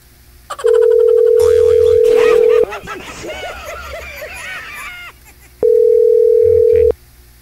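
Telephone ringback tone heard while a call is being placed: two long steady tones, loud and near, separated by a stretch of chatter and laughter.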